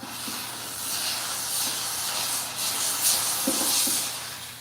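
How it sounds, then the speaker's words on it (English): A car detailing steamer hisses steadily inside a vehicle cup holder, a constant loud spray of steam with slight surges and no talking. "after I steam clean this"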